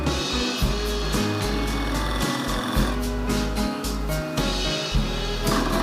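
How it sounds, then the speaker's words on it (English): Carbide lathe tool cutting a spinning epoxy resin mould for a synthetic shaving brush handle, with loud repeated clunks as the cutter catches a vertical groove, over a constant machine drone. "that clunking noise is just that we're catching that cut that went vertically up the length of the mould"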